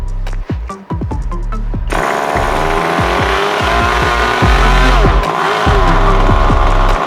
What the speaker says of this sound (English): Electric starter gets another go.